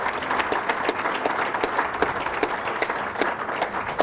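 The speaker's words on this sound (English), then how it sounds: "Round of applause." A lunch audience at Morton's The Steakhouse claps in a steady, dense round of applause that runs without a break, moderately loud and filling the room, with no speech over it.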